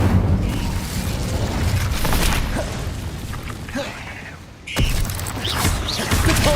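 Incendio fire spell cast in Hogwarts Legacy amid ongoing combat, with booming bursts, crackles and a sharp whoosh near the end over continuous loud game noise.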